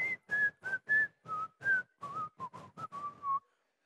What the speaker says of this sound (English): I can hear that whistle